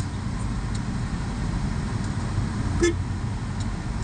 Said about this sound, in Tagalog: lakas ng busina yun